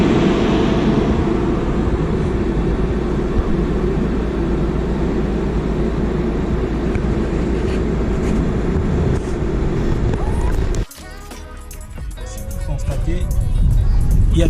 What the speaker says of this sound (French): ce train que vous voyez garé là, qui fait ce bruit